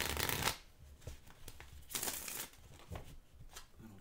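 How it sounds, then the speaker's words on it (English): A deck of playing cards is shuffled during a Magic-style card game, with several quick riffling bursts separated by short pauses, close and fairly soft. "I'm gonna shuffle one more time."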